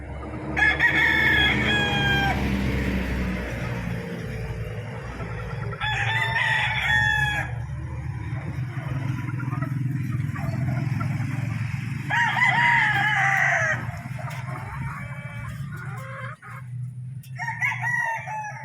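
A sweater gamefowl rooster crows three times in loud, stretched bursts, with gaps of low farmyard rumble and background clucking between the calls.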